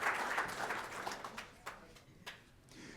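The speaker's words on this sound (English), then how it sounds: "A round of applause for MK, please." Applause from an audience at a 2024 corporate annual meeting starts full, then fades out into a handful of scattered claps.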